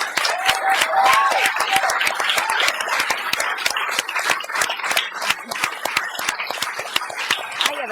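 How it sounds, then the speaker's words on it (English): An audience at a King's College London discussion breaks into applause, dense continuous clapping from many hands that fills the room at full volume, with no speech over it. "And a round of applause for those who worked on it."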